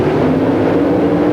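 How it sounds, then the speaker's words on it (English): Drag racing cars at a 1992 NHRA national event hold steady, loud engine drone at the starting line as RPMs are brought up, a continuous roar without talk. "See the cars rocking back and forth as they bring the RPMs up."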